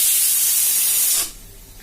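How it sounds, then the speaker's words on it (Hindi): A pressure cooker boiling chickpeas vents a loud, close, continuous steam whistle that cuts off abruptly, leaving a quiet low hum. "इधर जो कुकर में सीटी आप देख रहे हो ये आ रही है, इसके अंदर उबल रहे हैं काबुली छोले।"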